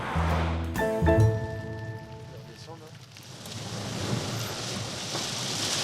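Steady rain patters on surfaces with a broadband hiss throughout, after a brief tonal musical opening; no speech.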